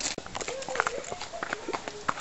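A blind mare with bad legs walks at a barn, her hooves producing a steady, close clip-clop rhythm, while voices talk quietly alongside.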